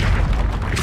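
A Repulso spell blast from the video game Hogwarts Legacy: a short, loud, booming burst with a heavy low rumble and hissy top, continuous over about a second, with no voices.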